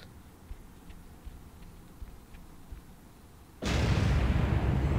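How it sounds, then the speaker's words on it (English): A loud explosion in the Spider-Man 2 video game bursts in abruptly near the end, a sustained roaring blast cutting off the quieter game ambience that comes before it. "Explosion."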